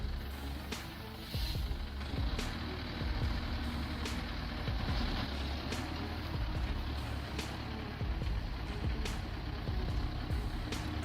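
A heavy truck engine labours through rough, muddy ground at a tree-removal site, a low, continuous rumbling drone that thickens and strains with sporadic knocks and clunks, unaccompanied by voices.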